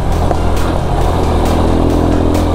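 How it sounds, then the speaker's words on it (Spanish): A Tekken 250 motorcycle engine revs and accelerates steadily over a rocky dirt route in the Mixteca region of Oaxaca, loud and close, its low throbbing drone continuous throughout. "Es que si no acelero, luego tambalea más la moto."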